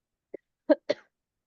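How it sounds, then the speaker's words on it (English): Three short coughs alone in quiet, a small one first, then two stronger, close-sounding coughs in quick succession. "You're coughing."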